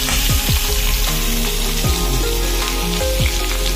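Taki fish sizzles and crackles loudly in hot oil, close up, with small pops and spatters throughout and no voices.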